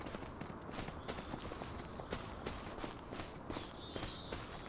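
Horse hooves plod along at a walking pace in Farming Simulator 25, a steady stream of soft repeated thuds over a constant background hum, with no voices heard.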